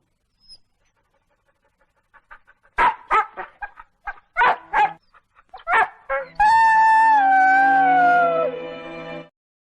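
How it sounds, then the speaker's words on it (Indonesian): Dog barking in front of a coffin: a run of sharp, separate barks builds up, then gives way to a long, loud wavering howl and whimper near the mic, with no talk. "lalu masuk dan menggonggong di depan peti mati Profesor Ueno"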